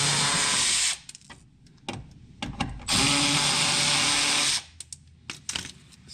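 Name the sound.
power tool removing oil pan screws, Mercedes GL350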